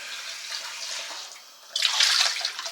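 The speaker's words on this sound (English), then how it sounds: "Give a pan a wee rinse." Tap water runs over a pan being rinsed, a hissing splash that dips briefly midway and then returns louder and fuller near the end, with no talking.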